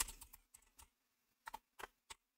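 A computer keyboard is typed on in short bursts of sharp clicking keystrokes separated by brief pauses, close and clear against a quiet background.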